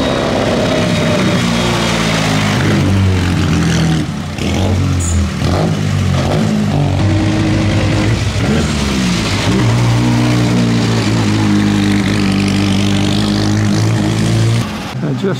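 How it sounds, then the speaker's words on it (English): A Bugatti racing by in the 2017 Mille Miglia, its engine revving and rising in pitch as it nears and passes, loud and up close, with other cars and voices mixed in. "here's another Bugatti."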